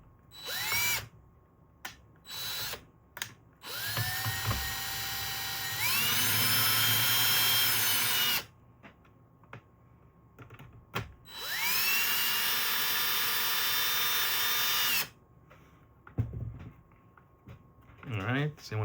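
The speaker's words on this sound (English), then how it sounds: "Don't recommend using a drill" Power drill driving screws into an Xbox 360 Slim case during a custom teardown, several loud whirring bursts of varying length, two sustained runs of a few seconds each, with short spurts and clicks between.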